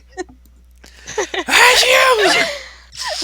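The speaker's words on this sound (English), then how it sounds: "We heard the sneeze." A loud, sharp sneeze bursts out after a few short breathy sounds and gasps, followed by a brief exhale and a little voice at the end.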